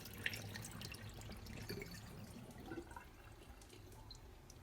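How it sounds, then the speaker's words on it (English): Water being poured off washed oxtail, a faint, soft wash of liquid running and splashing with a few small drips, quiet and without talk throughout. "so now I finished to wash the oxtail, so I'm just going to pour off the water from it"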